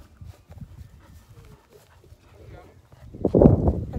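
A dog plays fetch at a country house with sheep nearby, giving a few loud barks toward the end after quieter rustling and movement, with people talking close by.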